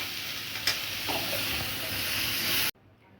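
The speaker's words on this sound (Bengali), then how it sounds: "ঝিঙেটা দিয়ে একটু নাড়াচাড়া করে নিয়েছি" Ridge gourd pieces stirred and frying in a hot pan, a steady close sizzle with a few scraping stirs, cutting off abruptly near the end.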